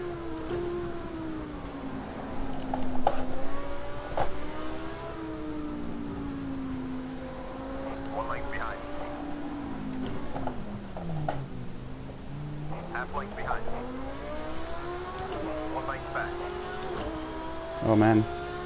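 Racing game engines drone and whine continuously, their pitch climbing and dropping as the cars accelerate and shift, with a couple of louder bursts.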